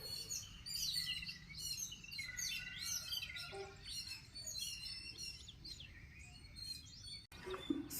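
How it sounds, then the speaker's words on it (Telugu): Many small birds chirp and twitter on a misty village morning, a busy overlapping chorus of quick high calls at moderate distance over faint ambient hum, ending with a brief clatter. "పక్షులు కిలకిలా అరుస్తున్నాయి."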